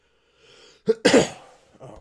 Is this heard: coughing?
yes